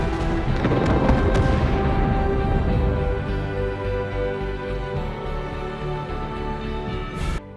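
Film explosions from Iron Man 3 as Iron Man suits blow up like fireworks in the night sky: loud booming blasts and crackling bursts that roll on and slowly fade, ending with a sharp final burst.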